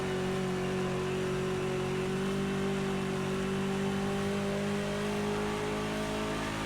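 A BMW 320 TC (E90) touring car engine drones steadily at high revs around the Bathurst circuit in a racing video game, a loud, continuous tone that rises slowly in pitch with no talk.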